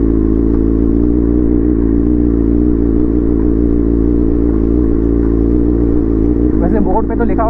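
A Kawasaki ZX-6R motorcycle engine rumbles steadily and loudly, with some rattling and clatter near the end as it rolls over a rough road in Jharkhand.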